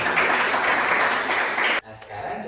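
Classroom applause from a group of students, dense steady clapping for nearly two seconds that cuts off abruptly, followed by quieter room noise.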